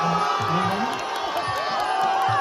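A dense crowd roaring and cheering at a children's Muay Thai boxing match for a 34,000-baht stake, loud and continuous, with shouts and whoops rising over the din and a commentator talking.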